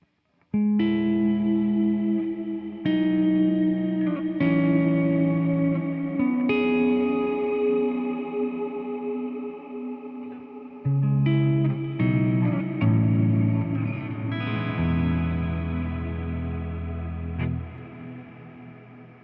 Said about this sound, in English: just huge, big sounding reverb